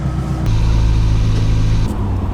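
Inside a 200-horsepower Renault 5 Turbo 2, the engine drones loud and steady from the cabin, its low growl rising as it revs up and then easing off near the end.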